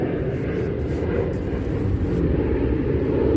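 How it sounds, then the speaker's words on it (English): A fixed-wing airplane passes over a roundabout campsite, its steady broad engine rumble droning continuously overhead at moderate distance with no speech. "I'm on a roundabout camping and I'm complaining about planes."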